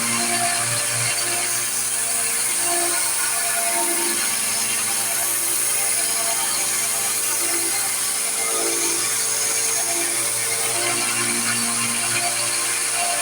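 Knife edge ridden along the side of a belt grinder's sanding belt during a dagger build, a steady loud broadband grinding hiss with a continuous mechanical whir and faint rhythmic fluttering throughout.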